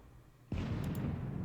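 Artillery fire in a Gettysburg Civil War strategy game: one sudden, heavy boom lands about half a second in and rolls into a sustained, loud rumble that holds to the end.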